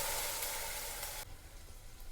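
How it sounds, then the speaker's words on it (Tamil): Fried onion tempering poured into freshly ground coconut chutney gives a loud, dense sizzle that cuts off abruptly partway through, leaving a quieter crackling hiss with no talk. "இந்த ஸ்டேஜில் அரைச்சி வச்ச அந்த தேங்காய் சட்னியில் அதை ஃபுல்லாக ஊற்றிடுவோம்."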